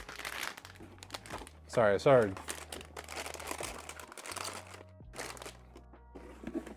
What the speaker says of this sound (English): I started crinkling that and I didn't want to talk while I was crinkling that